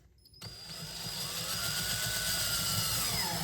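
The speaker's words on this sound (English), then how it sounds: "Hear it click? So that's the clutch." A power drill whirs steadily after a brief quiet start, slowing as it drives a screw, its motor note holding under a faint rhythmic ratcheting of the clutch slipping.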